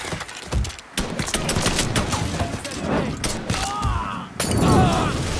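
Gunfire in the video game Mafia 3, dense bursts of shots and impacts crackling through a chaotic firefight, with a sharp loud burst near the end and voices shouting over it.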